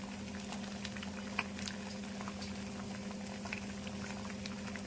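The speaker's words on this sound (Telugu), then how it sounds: "షుగర్ వేసిన తర్వాత ఎంత బాగా పొంగుతుందో చూడండి" Paneer butter masala curry bubbling in a pan after sugar is added, a soft continuous simmer with scattered small pops and plops over a low steady hum.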